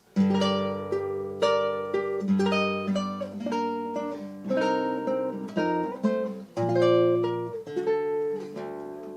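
Classical guitar plays a flowing fingerpicked passage from a theme, clear plucked notes ringing over bass notes, close and steady with no voices.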